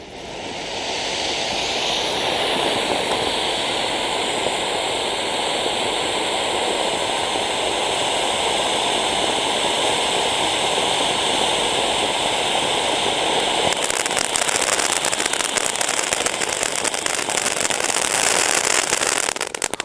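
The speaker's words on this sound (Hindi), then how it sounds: "मलिंगा लेकर जा रहा है इस राउंड वाले पटाखा को इधर साइड में और फटाफट से लगाता है इसको आग" A round Diwali firecracker burns after being lit, giving a steady, loud fizzing and crackling roar that holds for about twenty seconds and turns harsher and more crackly near the end.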